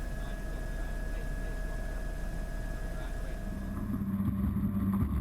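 P1 SuperStock powerboats race on open water at Hull, their engines a steady droning roar throughout, with a deeper, louder engine note surging near the end.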